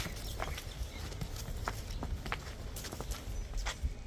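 A cow's hooves step slowly on a farm, irregular soft thuds and scuffs close by over steady outdoor background noise.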